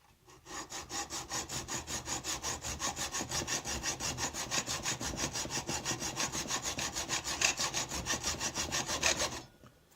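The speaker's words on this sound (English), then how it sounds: "let's cut the aluminum" A hand saw cuts aluminum on the leaking steam boiler of a Saeco DeLonghi espresso machine in fast, even back-and-forth strokes, a close, rasping rhythm of about five strokes per second that stops abruptly near the end.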